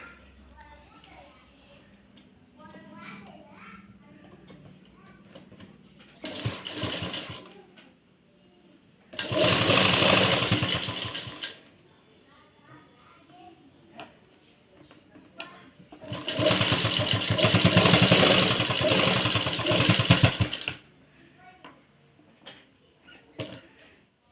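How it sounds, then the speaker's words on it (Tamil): A sewing machine stitches a blouse in three separate bursts of fast, whirring mechanical stitching, the longest near the end. Between the bursts someone talks quietly. "இப்போ நான் இங்கே ஒரு ஸ்டிச் போட போகிறேன்"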